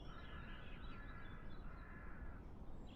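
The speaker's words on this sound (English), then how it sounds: "All you hear is birds." Birds cawing in a crow-like chorus within MS Flight Simulator, a faint, continuous outdoor bird ambience with no engine noise, calls overlapping steadily across the moment.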